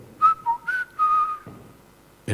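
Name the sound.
voice imitating a blackbird's whistling song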